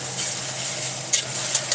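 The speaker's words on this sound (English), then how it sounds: "You're watching a pot of onions and garlic." Onions and garlic sizzle in a pot with a steady, close, even hiss and a few faint stirring clicks, no talk.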